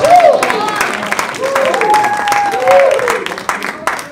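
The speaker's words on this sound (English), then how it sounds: "Give the kid a loud round of applause." A comedy club audience applauds a kid, continuous clapping from many hands under loud cheering and whooping voices, swelling and easing over a few seconds.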